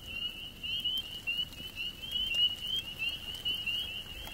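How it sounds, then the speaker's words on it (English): Tiny, well-camouflaged frogs keep up a steady high, buzzing chorus that runs continuously without a break, fairly faint and close, with no talk over it. "These frogs are so tiny that are making that noise and they blend in perfectly."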